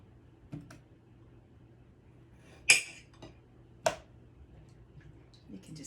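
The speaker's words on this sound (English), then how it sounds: "just going to cut all the potatoes" A knife chops through potatoes in a home kitchen, giving a few sharp, isolated clicks and thunks against a cutting board, spaced well apart over a faint steady background hum.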